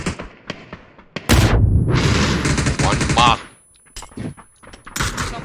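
Rapid bursts of automatic gunfire crack out loudly in a shooter video game, with heavy volleys at first and sparser shots later, while players talk over the action.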